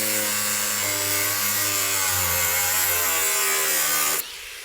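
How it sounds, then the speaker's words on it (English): A Harbor Freight angle grinder cuts into a safe, giving a loud, continuous high-pitched grinding whine that shifts slightly in pitch and then stops abruptly near the end. "have a Harbor Freight angle grinder"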